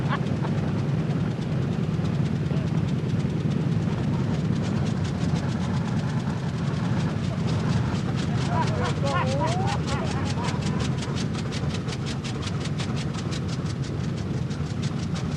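Restored B-29 bomber radial engines running during ground testing, a heavy continuous rumbling drone with a rapid pulsing beat, steady and close throughout.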